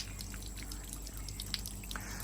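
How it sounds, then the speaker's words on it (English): Irrigation water trickles and drips steadily through the fabric pockets of a planted living wall, faint and continuous, with scattered small drip sounds. "so we can collect all this water that's running here"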